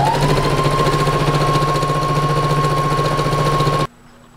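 Sewing machine running steadily at close range as it stitches a seam along the fabric edge of a bow, a loud continuous whir with a constant tone that stops abruptly near the end, leaving quiet.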